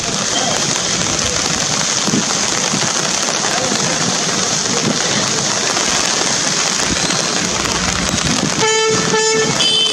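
Moderate rain falls with wind over the Kodaikanal hills, a dense steady hiss throughout, with a car horn sounding briefly near the end.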